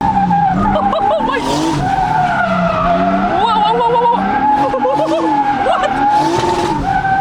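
A turbocharged BMW E36 drifts with tires squealing loudly and continuously, the engine howling and rising and falling in pitch as the car slides, close and intense throughout.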